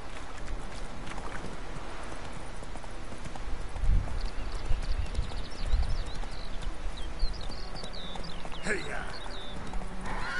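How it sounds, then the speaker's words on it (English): Horse hooves clip-clop in The Witcher 3 video game at a steady riding pace, set against an ambient outdoor bed, while a voice speaks intermittently over the gameplay. "This horse is so bad."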